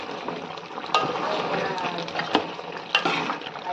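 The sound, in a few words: stirring chicken curry cooking in a pan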